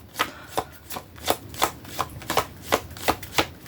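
Tarot cards shuffled by hand in a steady rhythm, about ten crisp riffling bursts spaced evenly and close up.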